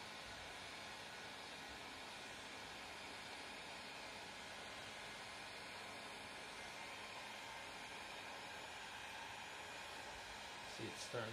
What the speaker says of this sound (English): Next, take your heat gun. Let's let it heat up a little bit first. And then start applying heat.